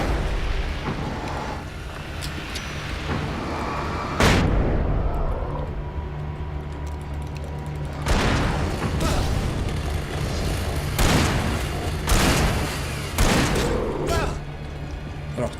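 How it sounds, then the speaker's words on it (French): A grenade blast in the Alan Wake video game, one of several heavy booming explosions that burst out over a steady rumbling bed, with loud impacts recurring through a tense firefight. "explose la grenade"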